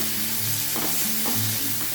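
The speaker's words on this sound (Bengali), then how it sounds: "পেঁয়াজ আর রসুনটা প্রথমে একটু ভালো করে ভেজে নেব।" Onion and garlic frying in a pan for a fenugreek-greens (methi shak) dish: a steady, close sizzle throughout, with a few soft stirring scrapes and no talk.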